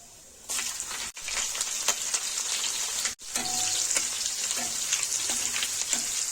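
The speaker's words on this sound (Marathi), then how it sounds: "आता तेल गरम झाल्यानंतर आपण याच्यामध्ये जिरे घालणार आहोत" Cumin, mustard seeds and green chilies crackle and sizzle in hot oil for a Maharashtrian onion dish, a steady close frying hiss with popping seeds and brief stirring scrapes, two short gaps breaking it.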